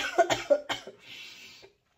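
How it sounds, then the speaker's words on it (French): A woman coughs several times in quick succession, close and fairly loud, followed by a breathy exhale and then silence. "Désolée, je vais tousser."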